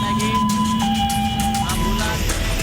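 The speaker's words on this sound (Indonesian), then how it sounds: "Jumlah ambulans tampak masuk menuju ke lokasi kebakaran." Wailing ambulance sirens with shifting tones over loud traffic rumble, several vehicles passing close by as they head to a Pertamina oil refinery fire in Dumai, Riau.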